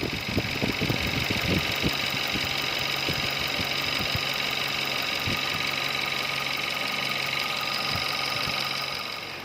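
A Hyundai Elantra 2.0L GDI engine idles close by with its cooling fan running, a steady hum and whir with irregular ticks and knocks that fade slightly at the end.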